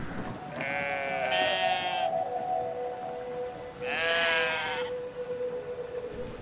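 Sheep in Brothers: A Tale of Two Sons give two drawn-out, wavering bleats over a steady ambient hum, loud and near.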